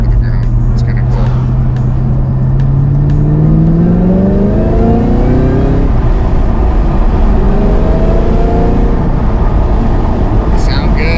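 A 2003 Saleen Cobra Terminator coupe accelerates hard, its engine and exhaust rising through the revs in a steady climbing drone, shifting once and pulling again, all under heavy wind and road roar.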